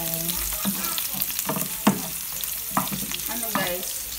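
Adobong kangkong (water spinach adobo) with ground meat frying in a pan: a constant close sizzle broken by repeated clattering stirs and scrapes, with no talk.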